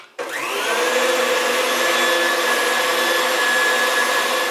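An electric mixer whirs steadily as it beats a cheesecake topping, starting abruptly and holding a loud, even motor drone for several seconds without any talk.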